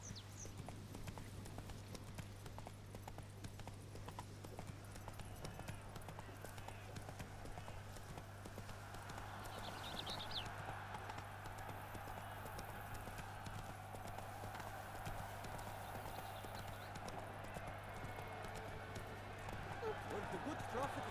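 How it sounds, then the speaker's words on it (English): The horse Roach gallops in The Witcher 3, with rapid, steady hoofbeats clip-clopping throughout. Someone talks over it alongside a constant low game hum. "Giddy up. Come on, Roach, you can climb stairs"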